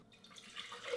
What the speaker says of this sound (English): I'm gonna pour the rest of my coffee.